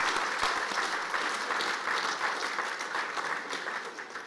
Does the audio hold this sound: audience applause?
yes